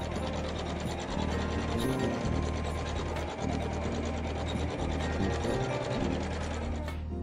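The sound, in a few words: embroidery machine sewing decorative stitches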